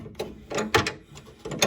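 A ratchet wrench tightening the rear sway bar bolts on a 2007 Hyundai Sonata, several short bursts of close metallic clicking separated by brief pauses.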